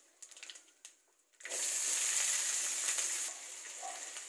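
Onions hit hot oil with already-browned chana dal and urad dal for red aval upma, bursting into a loud, steady sizzle after a quiet start, then easing slightly toward the end.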